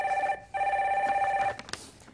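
A telephone line rings on a Korean stock-market call-in broadcast, giving a steady electronic tone that breaks off briefly and resumes before stopping, followed by faint clicks of the call connecting.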